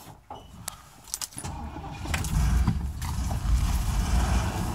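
A car engine cranking over from cold in a workshop, then catching and settling into a steady, fairly loud idle, with a few clicks and mechanical clunks before it fires.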